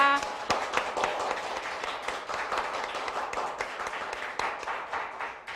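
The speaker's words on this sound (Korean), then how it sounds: "더 뜨거운 마음으로 박수를 부탁드리겠습니다" An audience at a nurses' association general assembly applauds, with dense, steady clapping from a sizable crowd in a hall, fairly distant and sustained throughout.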